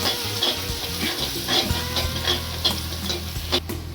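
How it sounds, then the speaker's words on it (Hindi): Coriander powder and salt being stirred into a sizzling masala for paneer butter masala, a steady frying hiss with repeated scraping strokes of a spoon against the pan, close and alone. "अब इसको मिक्स कर लेंगे अच्छे से।"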